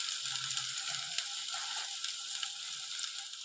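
Cauliflower filling with garlic cooks in a pan, giving a steady soft sizzle and light frying hiss that runs throughout without pause, fairly quiet and close, with no voices.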